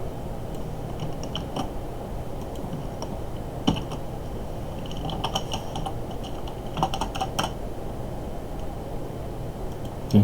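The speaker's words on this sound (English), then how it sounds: "we're going to type a lot" Someone types on a computer keyboard while writing code, with steady close clicking and scattered louder keystrokes throughout and no talking.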